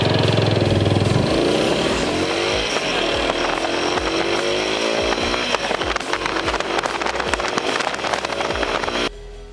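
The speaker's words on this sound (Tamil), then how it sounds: "நெக்ஸ்ட் இந்த பைக் 0 to 60 எவ்வளவு செகண்ட்ல அட்டைன் பண்ணுதுன்னு பார்க்கலாம் வாங்க." A TVS Apache RTR 160 4V BS6 motorcycle accelerating from standstill, the engine note climbing steadily through several gear changes, loud and close, before cutting off abruptly at the end.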